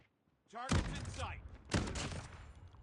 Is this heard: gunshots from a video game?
yes